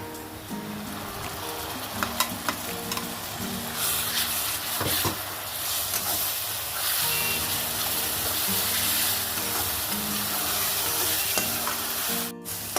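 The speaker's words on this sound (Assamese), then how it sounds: "মই এতিয়া ইয়াত বিলাহী পিচি থৈছিলোঁ সেইটো ইয়াত দি দিম" Ground tomato added to curry masala frying in a pan for home-style chicken curry, a steady loud sizzle with stirring scrapes and bursts of bubbling, close and continuous with no talk.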